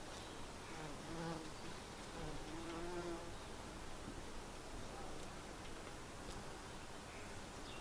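A soft, steady buzz of bumblebees around purple loosestrife flowers hums faintly outdoors, with a bee-like drone rising briefly now and then against a quiet, noisy background.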